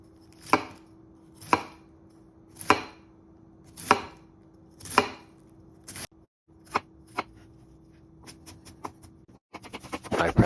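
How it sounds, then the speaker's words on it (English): Sharp knife strokes cut cabbage on a cutting board one at a time, then speed into a quick rhythmic chopping run, close and clear with no talking. "I practiced my fast chopping just for this video"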